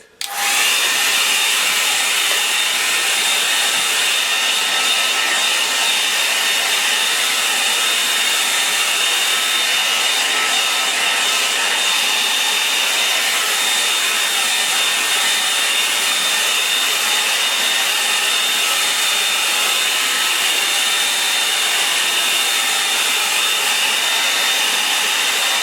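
A hair dryer blows steadily and loudly on a freshly painted sky to dry it, a continuous broadband whoosh that starts abruptly and runs unbroken for the whole stretch with no talking.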